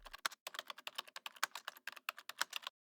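A query is typed on a computer keyboard, a quick close run of crisp key clicks in uneven bursts lasting a few seconds, with no talking.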